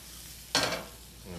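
Chilies, ginger and potatoes hit a hot pan with one sudden, short burst of sizzling and stirring that quickly settles back to a quiet hiss.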